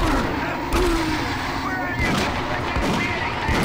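Zombies firing guns in the video game DOOM 3, heard as dense, continuous rattling gunfire with booming blasts throughout, loud and close.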